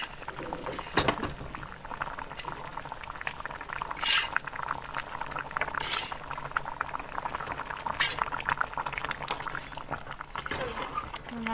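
Fish curry with tomato and mustard bubbles steadily in a pot, a continuous close simmering burble with occasional louder pops and clinks, no voice heard.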